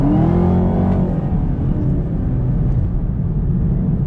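A 2019 Chevrolet Camaro ZL1 with a 10-speed automatic accelerating hard, its loud engine roar steady and close with rising harmonic sweeps as it climbs through the gears, no voices.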